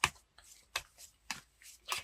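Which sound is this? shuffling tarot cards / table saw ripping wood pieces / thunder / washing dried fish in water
shuffling tarot cards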